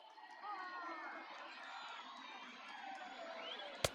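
A baseball stadium crowd of about 24,000 at a Cincinnati Reds versus Milwaukee Brewers game rises in a sustained roar of cheering, distant and broad, with a sharp crack near the end.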